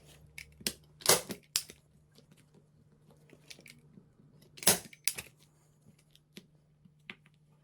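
Scissors trim excess upholstery fabric on a dining chair, a few sharp crisp snips and crunchy cuts in irregular bursts, close by against a quiet background with a low hum.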